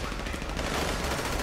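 Gunfire in the GTA 5 Online video game: a dense, continuous burst of rapid shots filling the whole moment, loud and close, with no clear talk over it.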